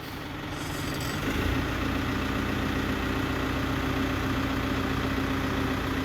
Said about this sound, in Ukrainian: Почти 4 хвилини робить двигун.